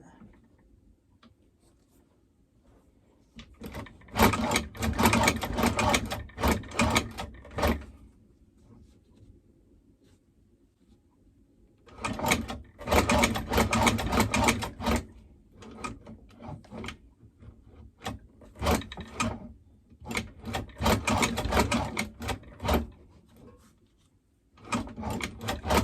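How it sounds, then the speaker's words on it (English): A hand crank sewing machine stitches in several bursts of rapid, close mechanical ticking, separated by quiet pauses, with no talk. "This is a hand crank machine."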